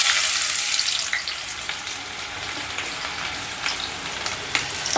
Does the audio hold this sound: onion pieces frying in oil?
yes